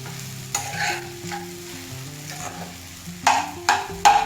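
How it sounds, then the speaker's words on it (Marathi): Sabudana khichdi is stirred in a hot pan, the spoon scraping and clanking in irregular strokes over a low background sizzle, with sharper metallic hits toward the end. "सगळं मिश्रण एकत्र करून घ्यायचं"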